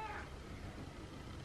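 A cat meows indoors, a brief tonal call near the start that fades into low room noise with no talking over it.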